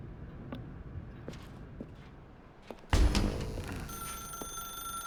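An old-fashioned telephone in The Stanley Parable starts ringing abruptly after a few faint footsteps in a quiet dark room, a sustained loud jangling bell that continues to the end.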